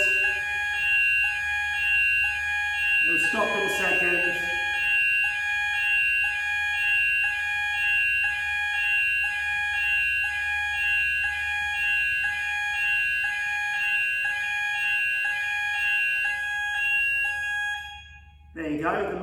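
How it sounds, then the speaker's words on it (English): Fire alarm test ringing through a fitness class building, a loud steady electronic tone with sustained harmonics running almost the whole time, stopping near the end, while an instructor talks over it and a short burst of other noise cuts in early. "the Monday morning fire alarm test"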